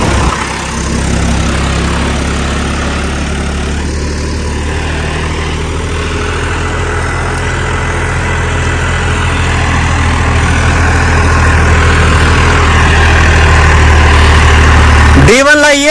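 A tractor engine, upgraded by 15 hp, runs steadily at reduced RPM in second gear with a low, continuous rumble up close, while someone talks over it.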